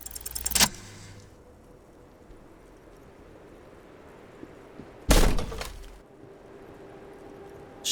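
Small, heavy door being forced in a video game, with a brief rattling jangle, then near silence before a loud crack and crunch of something breaking inside, trailing off into a low rumble.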